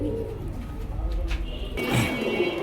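Red-geared double-patti pigeons coo close by, with low, steady repeated cooing and some background noise.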